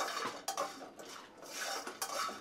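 Whole spices, including coriander seeds, rattle and scrape as they are stirred and dry-roasted in a pan, with a few sharp utensil clinks against the metal, quiet and close.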